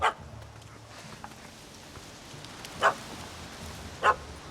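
A puppy in the fantasy game The Witcher 3 barks at a cat up a tree: three short, sharp yaps spaced out over a few seconds, the first at the very start, above quiet ambient background.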